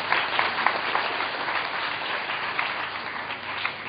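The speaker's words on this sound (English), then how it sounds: "I think that deserves another round of applause." Audience applause at a speech during a 2011 IDF Foundation Day event: dense, steady clapping from a large crowd that continues evenly throughout, loud and close.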